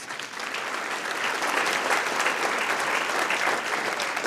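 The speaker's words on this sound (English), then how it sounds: "Round of applause for that, please." An audience at the Kiwanis Club of Indianapolis Abe Lincoln Awards ceremony breaks into sustained applause, a dense, even roomful of clapping that swells slightly and stays strong throughout.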